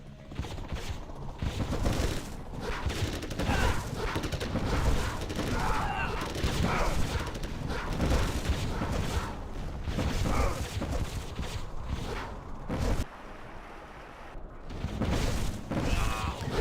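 Repeated flashbang explosions in a real-time strategy game, dense crackling bursts and booms running almost continuously at high volume, with a brief lull near the end.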